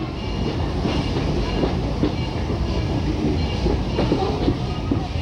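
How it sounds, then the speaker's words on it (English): The Disneyland railroad train rolls along with steady rumbling and light clickety-clack from the wheels, heard from on board, continuous and fairly loud. "So first of all, we're going to jump on the train."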